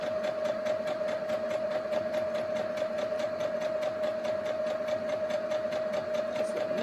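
A sewing machine stitches fabric in a steady, rapid mechanical rhythm with a constant whirring hum, close and continuous throughout without any voice.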